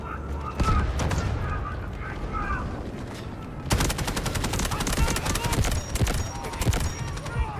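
Gunfire in the video game Delta Force. Scattered shots come first, then rapid machine-gun bursts take over, loud and close. Voices talk underneath.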